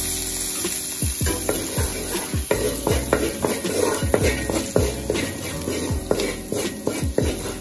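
A wooden spoon stirs curry in a pot over sizzling heat, with repeated scraping knocks against the pot in an uneven rhythm over a constant frying hiss, close and fairly loud.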